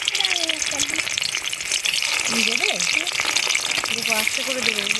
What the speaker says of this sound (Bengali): তেল গরম হয়ে গেছে, এবার বেগুনগুলো ভেজে নেব।